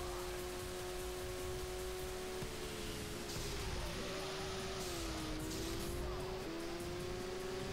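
Mitsubishi EVO 6 TME engine revving in the racing video game Auto Modellista, a steady loud drone with shifting pitch as the car slows and accelerates, over constant road and tire noise.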